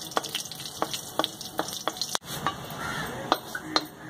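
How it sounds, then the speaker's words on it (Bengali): Curry leaves crackle and fry in hot oil in a wok for a chutney, with a continuous close sizzle and a few light taps and stirring clicks. "চাটনিটা পুরোপুরি তৈরি করার জন্য সামান্য একটু কড়াইতে গরম তেল দিয়ে"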